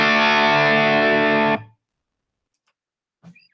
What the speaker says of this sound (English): I'm on the bridge pickup here of a dual humbucker guitar. It's a PRS, and this is the higher gain sound.